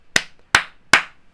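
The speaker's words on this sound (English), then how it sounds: "So if I clap harder, it goes higher up." Three sharp, close hand claps in an even rhythm, each crisp and loud with a short ringing decay, with quiet gaps between them.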